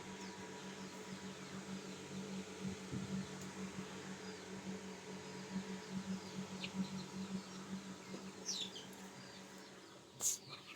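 An egg incubator machine runs with a faint, steady electric fan hum, joined by occasional soft high chirps and one brief louder squeak near the end.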